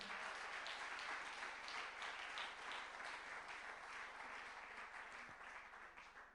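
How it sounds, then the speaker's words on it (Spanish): Sustained applause from an audience at a Spanish-language church gathering, a dense, steady wash of many hands clapping at once that fades slightly toward the end. "Un aplauso al Señor, no se duerma."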